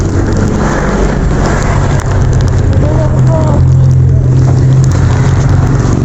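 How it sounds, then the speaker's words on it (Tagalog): Light drizzle outdoors near a house, a steady continuous hiss with a low hum underneath, constant in level throughout. "Oh guys, umaambon na nga pala."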